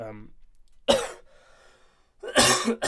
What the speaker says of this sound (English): You're going to probably keep hearing me cough